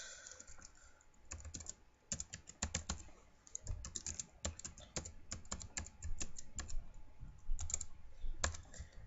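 Rapid, irregular keystrokes on a computer keyboard as an email address and password are entered, close and fairly quiet, in uneven bursts with brief pauses and no talking.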